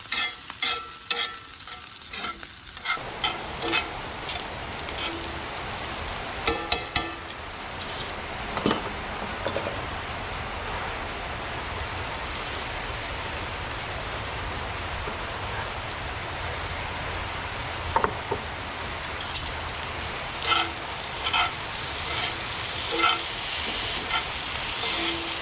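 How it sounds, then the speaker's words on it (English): Potato frying in a pan of oil and butter, a steady close sizzle running throughout with occasional clinks and scrapes of stirring, no voices. "That's what will be frying the potato."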